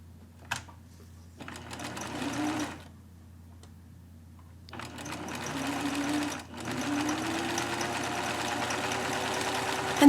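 A sewing machine zigzag-stitches along the fabric edge of a skirt, running in a short burst, then pausing, then running in a longer steady stretch of fast, even ticking close up.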